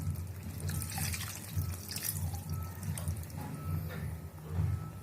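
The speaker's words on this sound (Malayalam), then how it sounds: "ഇനി ഇതിലേക്ക് നമ്മൾ തേങ്ങാപ്പാൽ, നേരത്തെ എടുത്തതിൻ്റെ തേങ്ങാപ്പാലിൻ്റെ 2-ാം പാല് ചേർത്ത് കൊടുക്കുകയാണ്." The thin second coconut milk for a chicken mappas curry is poured into the pot, a soft, steady liquid trickle and splash close by with faint kitchen background.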